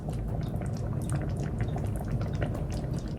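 Stuffed cabbage rolls in Southern style simmering in a pot with topping added, soft steady bubbling and popping close by, no talk.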